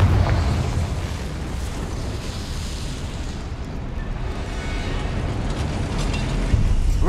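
Confringo blasting curse in Hogwarts Legacy, a sustained loud rumbling explosion with a deep roaring low end that fills the whole stretch, swelling slightly near the close.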